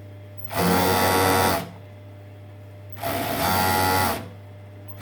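A sewing machine runs around the hem of a knit cowl-neck top in two distinct bursts of rapid stitching, each about a second long, over a constant low motor hum in between.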